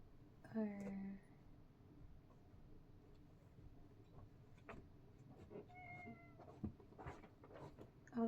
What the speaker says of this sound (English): oh, that was such a cute meow